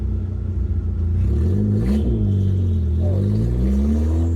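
An all-wheel-drive Vauxhall Nova race car engine revs loudly and continuously, the pitch climbing and dipping as the throttle is worked, with a steady low rumble underneath.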